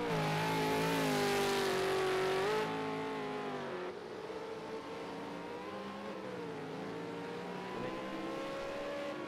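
A V8 Supercar race car at Circuit of the Americas, engine howling loud and near, high revs rising and falling through gear changes across the whole stretch, with no talk.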